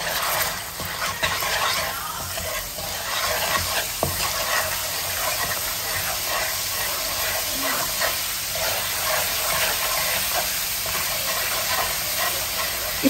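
Cauliflower and potato pieces seasoned with turmeric and salt fry in a pan, giving a steady, loud, close sizzle and hiss that runs the whole time with occasional stirring scrapes.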